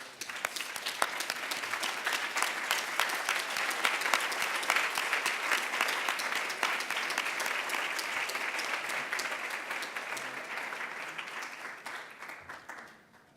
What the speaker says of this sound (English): Please stand and give yourself a round of applause.